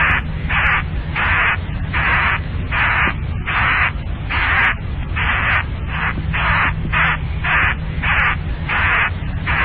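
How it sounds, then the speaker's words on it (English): Harsh, raspy caws of crows or jackdaws repeat in rapid bursts over a constant static-like hiss, several birds squabbling close by. "I think it was crows or jackdaws fighting."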